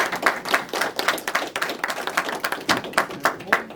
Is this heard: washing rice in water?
no